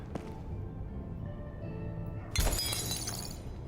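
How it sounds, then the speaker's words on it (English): Glass and fragile items smash in the Crime Scene Cleaner video game: after a quiet, low ambient stretch, one sudden loud shatter bursts out, followed by a ringing, scattering tail of breaking fragments. "Shattering fragile items, yeah."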